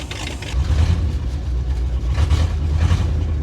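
A small baby forklift engine idles cold in a garage, warming up and building air pressure: a loud, steady, close low rumble with an even mechanical churn and no voices.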